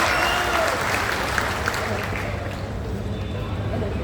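Steady, loud applause fills a Bharatiya Janata Party political gathering as a guest is welcomed, a continuous wash of many hands with a faint murmur of voices underneath.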